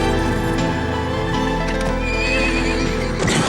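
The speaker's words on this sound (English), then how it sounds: "this dashing young man on a horse comes riding in" A horse rides in during a scene from the 1992 film Orlando, giving loud neighs and whinnies over clip-clopping hooves, with a steady orchestral score underneath throughout.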